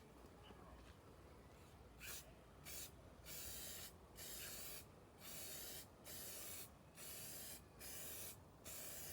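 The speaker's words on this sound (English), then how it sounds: "Okay, so now the clear coat is going on." Clear coat sprayed onto the rear tailgate of a Citroen Xsara Picasso during a SMART paint repair: seven or eight short, hissing spray-gun bursts in a steady rhythm, fairly quiet, with pauses between.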